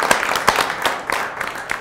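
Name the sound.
applause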